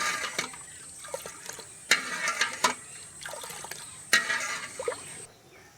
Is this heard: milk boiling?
yes